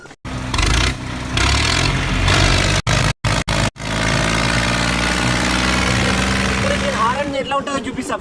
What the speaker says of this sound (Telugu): ఇప్పుడు ఈ బండి సౌండ్ ఎట్లా ఉంటుందో నేను స్టార్ట్ చేసి చూపిస్తా